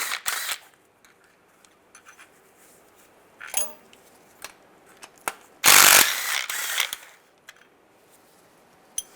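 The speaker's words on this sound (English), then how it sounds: "Then around the perimeter of the oil pan, you want to take all these bolts out using a 10mm socket." A ratchet with a 10mm socket works bolts loose around the oil pan of a 2007-2013 Chevy Silverado, with bursts of quick clicking and a louder sustained ratcheting run midway, close and without talk.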